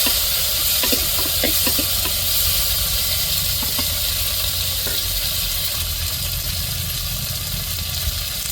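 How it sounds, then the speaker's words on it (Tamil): Onions and tomatoes sauté in a hot pan for a Tamil-style egg curry, giving a steady loud hiss and sizzle with a few faint stirring clinks. There is no talking. "அதனால இப்போ வெங்காயம் தக்காளியை நல்லா வதக்கி விட்டுக்கிடுவோம்."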